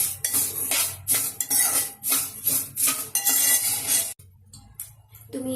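Cashews sautéed in ghee in a pan, with a spoon scraping and clinking against the metal in repeated bursts, close and fairly loud, fading to quieter scraping near the end.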